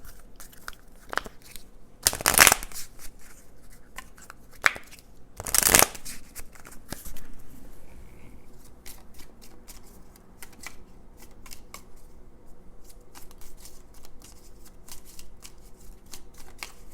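Synchronicity Oracle card deck being shuffled, two short loud riffling bursts followed by softer handling rustles and light taps.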